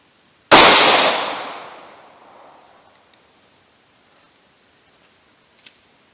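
A single loud 9mm gunshot fired into stacked 2x4 boards, a sharp blast with a long decaying ring, followed by a few faint small clicks.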